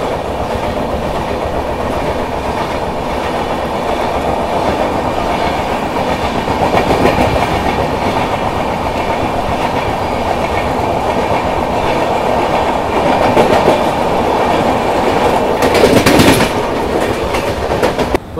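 Onboard the Godavari Express passenger train running on rails between Visakhapatnam and Hyderabad, a loud, continuous rumble with steady wheel clatter and a brief sharper burst near the end.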